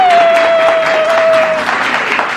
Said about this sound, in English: I want you guys to give yourselves a round of applause on camera